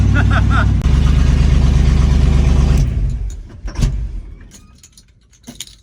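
A Squarebody Chevy truck with a newly installed radiator rumbles loudly up close, then drives away to park, its engine fading out after a few seconds, leaving faint clatter and distant noise.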